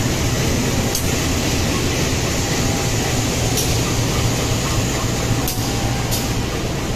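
Steady broadband rumble of the Tawang Jaya Premium economy-class passenger train from Cirebon to Jakarta Pasar Senen, hauled by a CC 201 diesel locomotive, with a low droning hum and faint periodic clicks over seven seconds, no talk.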